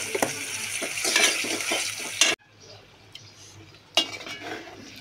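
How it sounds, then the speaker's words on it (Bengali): Meat and spices being fried in oil and stirred in a pan before lentils are added, with a loud sizzle and scraping, clinking stirs for two seconds, then a quieter low sizzle and another burst of stirring. "কষিয়ে মাংসের তেল, চর্বি, আলা মাংসগুলো দিয়ে ডালটা ভুনাবো।"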